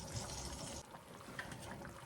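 Water trickling into cornbread batter in a small bowl as hot water cornbread is mixed, a soft steady pour that thins out partway through, close and fairly quiet with no talking.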